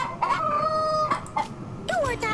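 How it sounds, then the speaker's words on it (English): A rooster crows in the game Yes, Your Grace, a couple of sharp, loud drawn-out calls with sliding pitch, close and clear over a quiet background. "A rooster."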